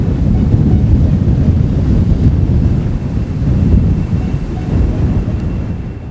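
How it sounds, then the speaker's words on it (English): A plane takes off in a low, broad rumble that swells and eases over several seconds, heard through a microphone input with a rough, wind-like texture. "listen again to a plane taking off"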